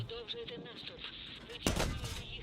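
Tank cannon shots in the World of Tanks video game, one sharp loud blast standing out over a steady droning engine and battle background while someone talks.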